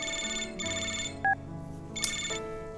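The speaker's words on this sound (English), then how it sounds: "Suddenly, the phone rings." A phone ringtone rings in the Love and Deepspace video game: a melodic electronic ringing in repeated bursts over soft background music, with no talking.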